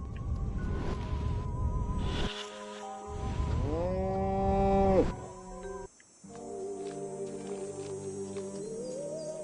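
A cow moos inside the alien invasion video game Destroy All Humans, a long tonal low that slides in pitch, heard over game music and ambience, with a short drop in sound near the middle.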